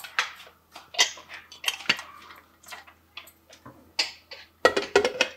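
A metal lid clatters onto a cooking pot of mutton curry in a home kitchen: a series of sharp clinks and taps close by, in short separate bursts.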